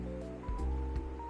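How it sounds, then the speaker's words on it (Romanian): Water bubbles and churns in a small jacuzzi in a hotel spa, a steady rushing, frothy wash heard close and fairly loud, with no one talking. "Ia uite cum sare apa acolo. E jacuzzi."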